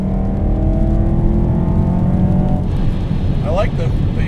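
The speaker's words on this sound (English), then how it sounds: "I like the blow off sound." A 620 hp VF Engineering supercharged BMW E93 M3 engine drones loudly and steadily under nearby talk, then eases off with a short whooshing blow-off valve release.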